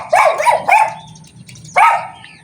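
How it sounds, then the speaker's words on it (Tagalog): A dog barks nearby in a series of sharp barks, three in quick succession then a pause before one more, with a low background hum underneath. "maingay ang aso"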